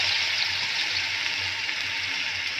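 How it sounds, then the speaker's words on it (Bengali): Ginger-garlic paste and ground cumin fry in a hot pan, giving a steady, close, continuous sizzle with no pauses and no voices. "আদা রসুন বাটাটা আমি দেওয়ার পরে এখানে দিয়ে দিলাম পরিমাণ মতো জিরের গুঁড়ো"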